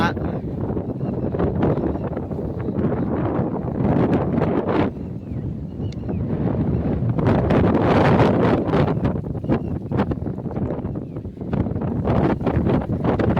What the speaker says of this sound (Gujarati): પવન પણ બહુ છે